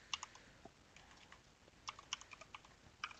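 Fingers typing on a computer keyboard, quiet and close, in a few short bursts of sharp clicks with brief pauses between them, no voices.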